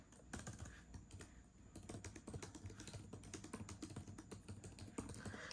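Rapid typing on a Samsung Galaxy Tab S8 Ultra keyboard case, a steady stream of close, crisp clicks with no pauses and no voices.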